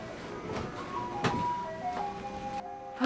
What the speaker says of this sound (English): Is that the ice cream truck?